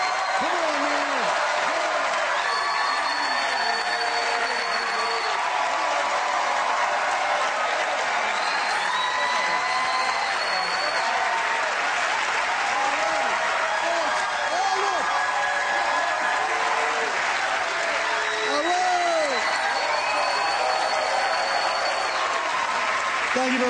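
Standing ovation for stand-up comedians from a studio audience, dense sustained clapping that stays loud and even throughout, with faint cheering mixed in.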